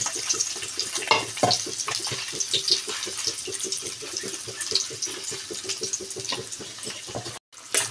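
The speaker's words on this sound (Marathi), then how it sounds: "अंडे ठेवलेले होते ते आता आपण याच्यात फ्राय करणार आहोत" Boiled eggs frying in hot oil for egg dum biryani, a steady close sizzle with small pops and crackles throughout, briefly cut at the end.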